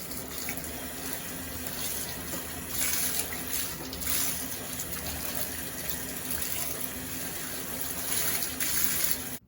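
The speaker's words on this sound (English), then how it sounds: "we're just gonna rinse it out real quick with really warm water" Really warm water runs from a tap in a steady gush as a giant Bratz doll's hair is rinsed, with splashing and swells in the flow, close and continuous.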